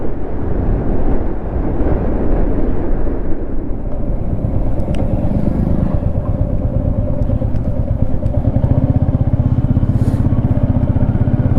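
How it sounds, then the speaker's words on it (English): A Royal Enfield Meteor 350 engine runs with a bubbly, steady thump under continuous wind rush while riding, loud and close throughout. "The engine sounds very bubbly,"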